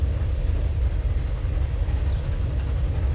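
A train rumbling along steadily in the transport simulation game Transport Fever, a continuous low, heavy rolling noise with no breaks.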